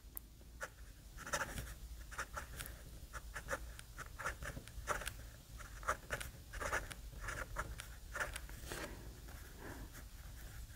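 Moonman M600s fountain pen with a number six nib scratches across paper in short, soft strokes and taps, close and quiet, in an irregular rhythm with no talking.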